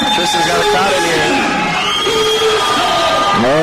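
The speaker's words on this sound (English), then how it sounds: "the crowd's blowing off the roof in here" A packed arena crowd at a fighter's pro debut roars and cheers loudly and continuously, with whoops and yells rising above the din and a commentator's voice audible within the noise.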